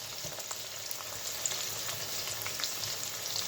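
Bay leaves and onions fry in a hot pan for egg pulao, a steady, close sizzling hiss that runs unbroken throughout with faint crackles and no voices.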